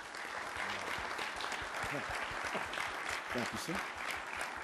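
Applause rings out at a Pentagon lecture for Dr. Hampton, a steady crowd clapping at a modest, somewhat distant level while a voice speaks briefly over it.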